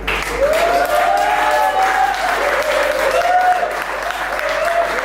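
An audience at a live painting event gives a sustained round of clapping, loud and dense and steady throughout, with a voice briefly calling out over it.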